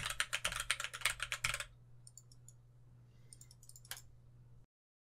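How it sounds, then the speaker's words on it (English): A quick burst of close keyboard typing, followed by a few sparse, crisp mouse clicks in near silence. "Now I'm going to throw some mouse clicks and some keyboard clacks in here"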